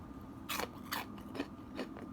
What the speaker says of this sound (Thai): ลองชิมให้แฟนขับได้ยินเสียง ว่ากรุบกริบกรอบแค่ไหนนะคะ